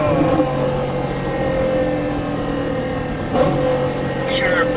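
A powerful Ferrari 812 Superfast engine drones loudly and steadily close by, with a brief rise in revs near the end.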